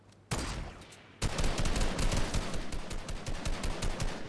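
Gunfire in the video game Fortnite: a single sharp shot, a brief pause, then a dense, rapid stream of automatic fire that stays loud and close, with no talk.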